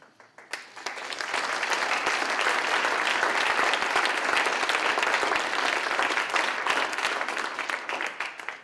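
Sustained applause from a panel-discussion audience for the panelists, rising quickly to a dense, steady roar of many hands that holds for several seconds before tapering off at the end.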